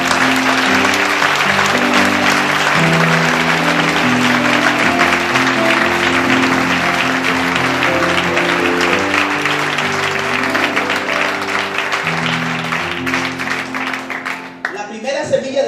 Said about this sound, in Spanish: ¿Por qué no aplaudimos más fuerte?